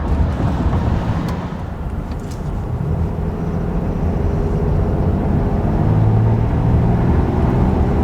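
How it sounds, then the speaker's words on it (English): A 2024 Ram 3500 Cummins diesel pickup with a six-speed Aisin transmission pulls at wide open throttle, a steady loud low engine roar heard from inside the cab, sustained without a break and with no talking. "Dropped down the 4th with the wide open throttle."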